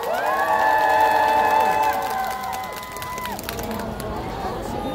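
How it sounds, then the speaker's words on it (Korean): Crowd at a Busan street rally calling for President Yoon Suk Yeol's resignation, cheering and shouting loudly from many voices at once, the noise easing slightly after a few seconds. "큰 박수로 한번 모셔보도록 하겠습니다."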